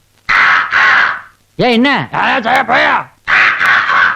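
Crows caw in a Tamil comedy film scene, with loud, harsh bursts at the start and again at the end, and a person speaking briefly between them.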